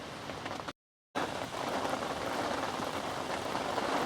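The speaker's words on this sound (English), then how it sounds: "The rain they promised us is now on us." Heavy midday rain hammers down steadily outdoors at a fishing spot, a dense, continuous close hiss broken only by a brief dropout near the start.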